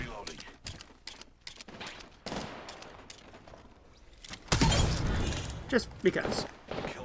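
Player's weapon firing in Apex Legends Season 10, scattered sharp shots early then a loud dense burst of rapid gunfire midway, mixed with game effects and brief speech.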